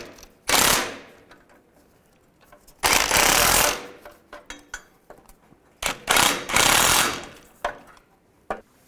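An impact wrench rattles in loud, close bursts, tightening exhaust manifold bolts on a 2002-2009 Chevrolet Trailblazer; three long buzzing runs alternate with short clicks and metallic taps of hardware.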